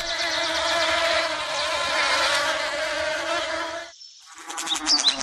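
Loud, dense insect buzzing drones steadily, cuts out briefly, then returns with a sharper whine close by.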